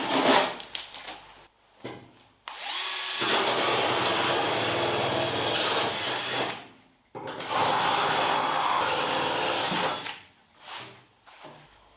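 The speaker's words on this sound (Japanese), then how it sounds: "大丈夫そうなんでこのまま穴開け切っちゃいます" A power drill bores holes through the body of a Mazda RX-7 FD3S during restoration: two long, loud, whining runs of several seconds each, separated by short pauses, with brief starts and stops at the beginning and end.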